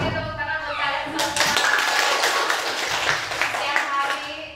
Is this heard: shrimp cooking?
no